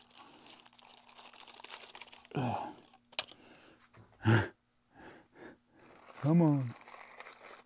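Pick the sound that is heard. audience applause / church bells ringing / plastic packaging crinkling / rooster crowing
plastic packaging crinkling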